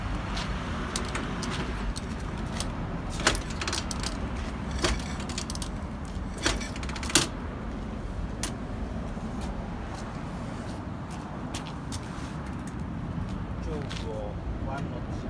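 A 1947 vintage Harley WL motorcycle rumbles with a low, steady engine drone broken by a few sharp knocks and bursts, heard close, while people talk over it.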